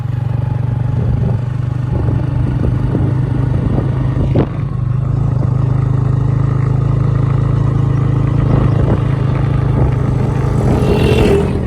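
Motorcycle engine running steadily while riding along a rural road in Pakistan, a constant mid-pitched drone with wind and rattling, loud and close throughout without any talking.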